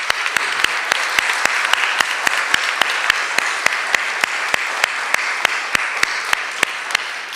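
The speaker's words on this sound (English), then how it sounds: "offer our readers a round of applause" Audience applause for the readers at a Juneteenth community reading of Frederick Douglass, a steady wash of clapping sustained for several seconds, with sharp regular clicks standing out on top.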